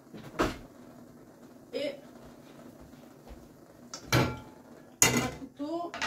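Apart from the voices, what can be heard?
rummaging in kitchen cupboard and drawer for a wooden spoon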